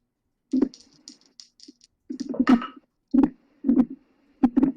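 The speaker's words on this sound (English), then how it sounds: "We can hear him typing, but not his voice" Bursts of keyboard clatter, loud and close, with short pauses between quick runs of key presses; no voices.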